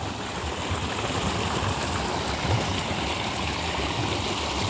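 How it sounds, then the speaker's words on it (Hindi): A monoblock pump on a tubewell at a farm field pushes water out in a steady, continuous gushing rush that stays even and fairly loud throughout, with no talk. "आज यहाँ आज भी इनका मोनो ब्लॉक चल रहा है"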